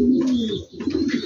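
Low, throaty cooing from King and Mondain pigeons in a breeding loft, a close drawn-out call followed by softer rolling coos, with no voices.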